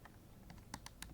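Fingers type on a computer keyboard at a Linux terminal prompt: a quiet, close run of about eight crisp, irregular key clicks within a second.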